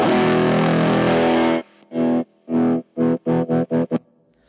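Electric guitar with humbuckers through a Tone Cloud Effects Jaffa fuzz pedal: a thick sustained fuzzy chord, then a series of choppy staccato chord stabs, loud and close with no voices.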